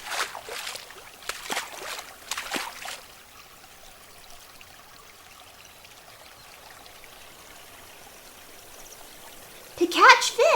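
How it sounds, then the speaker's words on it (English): Water splashes and trickles from someone wading into a stream, with splashy bursts at the start and again at the end over a quiet flowing background; a voice speaks near the start. "Why are you wading into the stream?"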